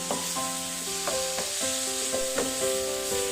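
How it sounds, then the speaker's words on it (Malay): Meat and spices sizzle in a wok for a thick beef soup while a spoon stirs them, producing a steady frying hiss broken by regular scraping knocks, with tonal ringing from the pan. No one speaks. "Daging ini hendaklah dikacau rata bersama semua bahan supaya ia sepati"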